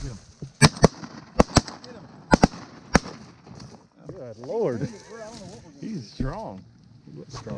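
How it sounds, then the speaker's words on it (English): Shotgun blasts during a December duck hunt for greenheads and pintail: several sharp, loud reports fire in quick pairs near the start, then hunters talk excitedly afterward. "I'm going to shoot him."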